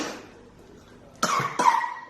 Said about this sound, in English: That might help your cough.